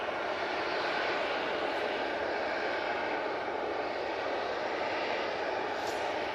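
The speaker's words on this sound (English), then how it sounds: "Another 2E Dreamliner, 787-8, going off to Paphos." A Boeing 787-8 Dreamliner takes off from Manchester Airport, a steady, loud broadband jet roar that fills the whole clip without letting up, with no voices over it.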